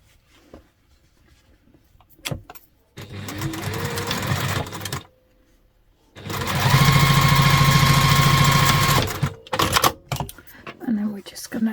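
A sewing machine top stitching a fabric packing pod wet bag, running in two steady whirring bursts of needle clatter, the second longer and louder, with brief pauses and quiet handling noise between them.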